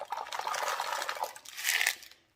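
Water pours into a rock tumbler barrel holding ceramic media and Mexican crazy lace agate, a brief close splashing trickle with faint clinks that tapers off.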